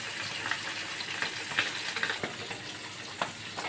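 Pabda fish fry in soybean oil in a wok, a dense crackling sizzle broken by sharper pops and stirring clicks, close and moderately loud with no talk.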